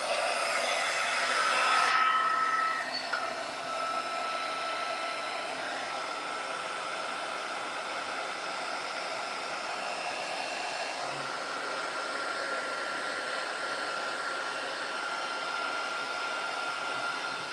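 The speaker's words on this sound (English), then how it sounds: "let me see what it'll do with the heat gun" Heat gun blowing on wet paint on a masterboard: a steady, close whooshing roar, slightly louder at first and then settling to an even drone.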